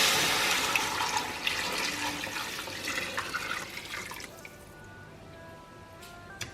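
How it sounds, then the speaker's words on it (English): Hot water pours steadily and fairly loudly into a cooking pot of lamb haleem, then tapers off, leaving light trickling and drips. "So what I'm going to do now is add in hot water."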